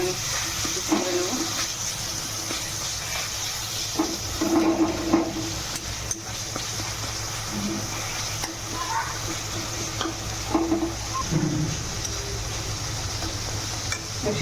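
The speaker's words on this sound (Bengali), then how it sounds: "একটু নুন, মশলাটাকে ভালো করে কষিয়ে নেব।" Spice paste with salt and tomato sizzles steadily in a pan for a long stretch, with intermittent scraping of a spoon against the pan.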